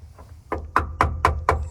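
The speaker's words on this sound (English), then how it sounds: "Knock around a little bit, you can hear" Five sharp knocks in an even rhythm rap on the solid metal inside the trunk of a 1973 BMW 2002tii, close and distinct with no talking.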